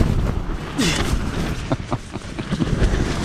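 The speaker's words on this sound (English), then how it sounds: "Because this tent's just not made for this kind of wind." Strong gusty wind from tropical storm Zeta buffets a tent at 6000 feet on Black Mountain Trail, a steady loud roar with surging gusts and flapping rustles close to the microphone.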